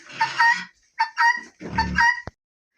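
Chickens and a rooster clucking in short, close bursts, with a couple of louder squawky calls and brief pauses between.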